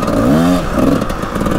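A Kawasaki KX 250 two-stroke motocross bike engine putters loudly close by at low revs, with a brief rising rev that settles back near idle.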